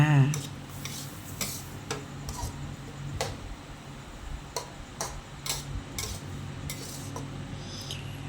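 Zucchini with added sugar being stirred in a pan, with repeated light clicks and taps of a utensil against the pan at an uneven rhythm, close and moderately quiet.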